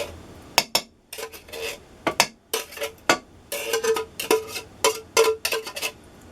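Metal can pried open with a knife and its contents dumped into a cooking pot for spaghetti and meatballs: a string of sharp metallic clinks and scrapes in irregular clusters, close and fairly quiet, no talking.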